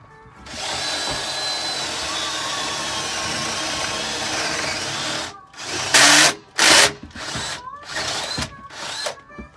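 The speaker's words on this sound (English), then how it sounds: "We'll have to drill a hole now in this one" A power drill bores a hole on a sailboat, first in a long steady whine, then in several short loud bursts separated by pauses.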